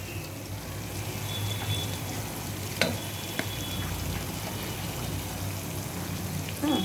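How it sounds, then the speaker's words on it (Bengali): Rice fries (bhuna) in a pot for khichuri, a soft continuous sizzle with occasional stirring scrapes and clinks, close but fairly quiet. "এবার আমি চালটা দিয়ে ভুনবো"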